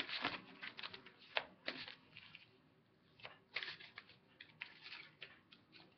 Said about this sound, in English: let's give these a shuffle here.